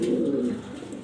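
Jharna satin pigeons let out a single low, rolling coo close by, strong at first and then fading into quiet background hum.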